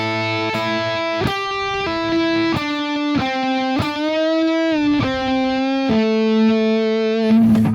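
A slow rock lick on a distorted electric guitar, picked in steady eighth notes with string bends that slide the pitch up and down, loud and close with no voices.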